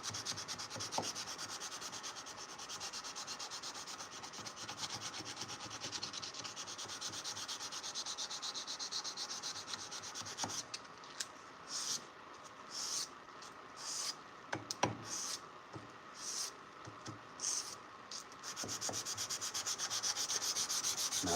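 A knife blade is sanded by hand with sandpaper, a steady close rubbing that later breaks into short, quick strokes.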